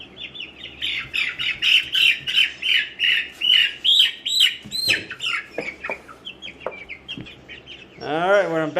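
Cornish Cross chickens in a tote cluck and squawk steadily up close, a dense flock of overlapping calls with a few sharper squawks and a louder rising squawk at the end.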